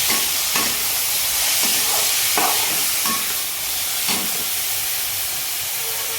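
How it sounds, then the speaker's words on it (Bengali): Carrots sizzle in a hot pan for an Andhra-style carrot fry, a steady, loud hiss with periodic soft stirring scrapes, close up and without talk. "তো এখন আমি ক্যারেটগুলোকে অ্যাড করে দেবো"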